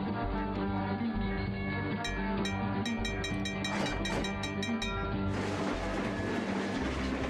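A game train in Trainz rolls steadily along the track with a continuous rumbling drone and periodic rhythmic clicks, loud and close, with no talking.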